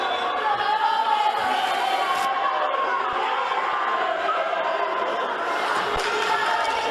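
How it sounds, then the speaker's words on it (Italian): Players of the Femminile Firenze women's basketball team applaud loudly in a sports hall at Palasport di Via Talete, a steady dense wash of crowd noise and clapping lasting throughout with faint chatter mixed in. "Eccole qua le ragazze Femminile Firenze, le sentite e le vedete adesso applaudire a gran voce"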